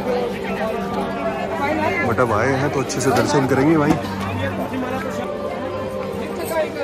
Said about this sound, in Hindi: भीड़ तो है भाई, अच्छी खासी भीड़ है